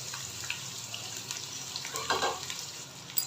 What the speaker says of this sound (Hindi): प्याज को हमने अच्छे से फ्राई करना है